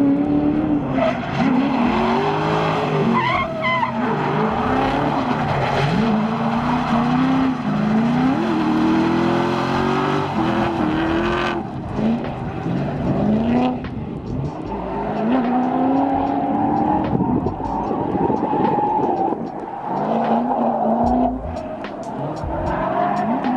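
Drift car on Zeknova tires sliding through a banked section, engine roaring steadily with long sustained tire squeal and skidding throughout, loud and close.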